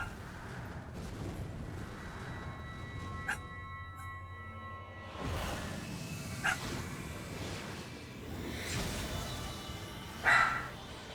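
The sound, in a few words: dog barking in the background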